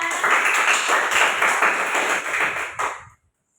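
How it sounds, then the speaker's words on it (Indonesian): A classroom group claps during a microteaching practice lesson. The applause is dense and close, stays lively for about three seconds, then stops abruptly. "tepuk tangan buat Mbak Ulfa."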